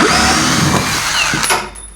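A brushless power drill runs steadily at low speed as it backs a screw out, a loud close whir that holds a constant pitch before winding down near the end.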